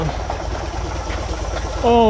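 A 68-year-old REO dump truck engine idles roughly and low, a steady throbbing rumble close by, while people talk over it.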